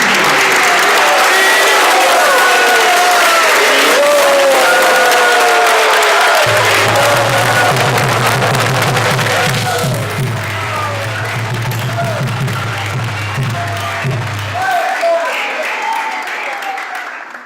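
Loud, sustained audience applause and cheering welcome devotees at a Vyas Puja celebration, with a low droning tone and musical notes joining partway through, applause thinning toward the end.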